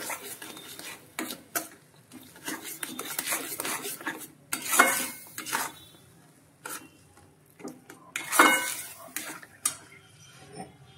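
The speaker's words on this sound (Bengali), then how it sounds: "দুধ দেবো, নাড়বো, অল্প করে দেবো আর নাড়বো।" Milk is stirred into mango suji halwa in a pan, giving repeated spoon-on-metal scraping and clattering strokes in irregular bursts over a faint sizzle, close and fairly loud, with no voices.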